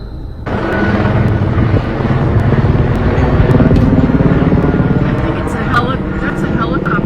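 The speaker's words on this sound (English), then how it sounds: "That's a helicopter. I think they're looking for them." A helicopter, apparently searching, drones steadily overhead in New Jersey, a loud continuous rotor rumble with some wind buffeting on the microphone.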